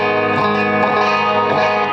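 Heavily distorted electric guitar driven through a gain pedal such as an Archer Icon or Hotcake, a loud sustained saturated chord ringing with dense harmonics, played alone without talk.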